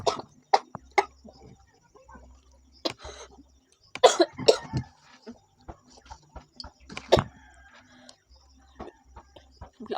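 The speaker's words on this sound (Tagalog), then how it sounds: "Biglaan na ubo." A woman coughs suddenly and repeatedly at close range during a mukbang eating session, with sharp bursts and some throat clearing separated by quiet gaps.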